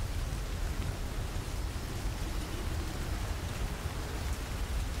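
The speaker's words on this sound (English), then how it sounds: "it's just a rainstorm with lightning" Steady heavy rainstorm with thunder and lightning, a dense, continuous wash of falling rain at even loudness throughout, with no distinct thunderclaps standing out.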